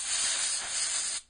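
A can of compressed air gives one short, steady hissing spray that stops abruptly, close by and alone.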